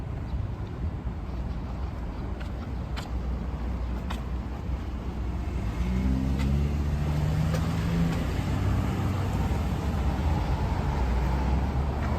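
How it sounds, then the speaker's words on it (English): Backed-up traffic on both sides of Front Street in the city, a continuous low rumble of idling and creeping vehicles heard from the sidewalk, with an engine tone swelling midway and faint clicks over the steady drone, no speech. "All of this traffic on both sides."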